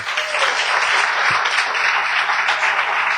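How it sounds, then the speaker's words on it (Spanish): A church congregation gives a brief round of applause, a steady full wash of clapping throughout, fairly close and with no speech over it. "nuestra congregación le va a dar un cortísimo aplauso"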